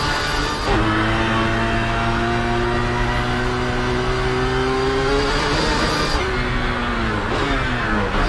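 Race car engine in Project Cars 3 revving steadily and loudly, its pitch climbing through gears with brief drops between shifts, continuous and close with no voices over it.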